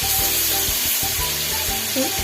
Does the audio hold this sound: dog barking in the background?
no